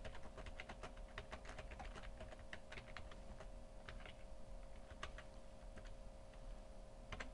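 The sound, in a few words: typing on a computer keyboard in Final Draft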